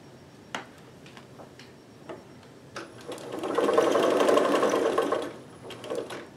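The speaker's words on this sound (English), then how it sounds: "I've got the servo motor set to 2900 RPM, which just gets this machine up to a good speed" A sewing machine driven by a servo motor set to 2900 RPM with a speed reducer fitted runs fast for about two seconds. It is a dense, steady whir with a rapid stitching rhythm, preceded and followed by scattered clicks and ticks.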